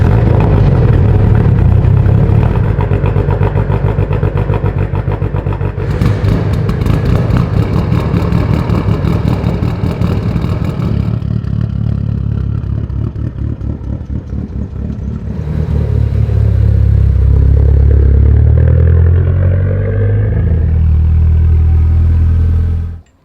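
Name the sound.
car engine starting and running in shop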